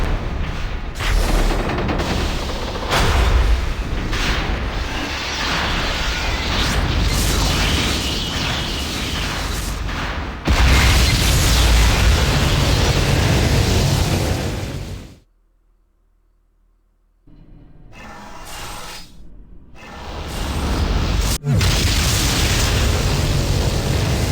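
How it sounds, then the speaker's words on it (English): Mechanus cannon firing in the Planescape: Torment video game: loud, dense booming blasts and rumbling that run continuously, break off into a short silence, then resume with another sharp burst. "This is Mechanus cannon."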